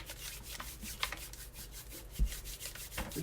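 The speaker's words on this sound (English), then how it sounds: "Just rub your hands together" Hands covered in scone dough rub together in a soft, close, quiet dry swishing, with a few light scuffs and one small thump along the way.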